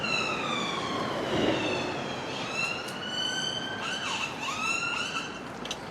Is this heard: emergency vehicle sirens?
yes